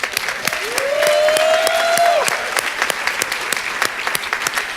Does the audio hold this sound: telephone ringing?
no